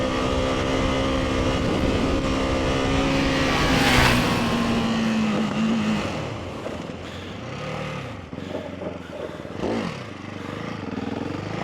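Loud engine of a supermoto motorcycle, a Ducati 698 Mono or KTM 690 SMC R, held at high revs during a stand-up wheelie, pitch rising and easing as it passes close by.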